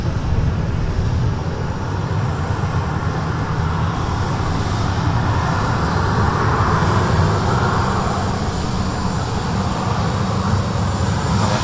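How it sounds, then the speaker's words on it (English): A Lauda Europe Airbus A320-200 airliner touches down at Manchester, giving a steady, broad roar of engines and rushing air at moderate distance, continuous throughout without voices. "Just touching down, we have a Lauda Europe Airbus A320-200, which is operating Ryanair's flight 5872 from Zagreb"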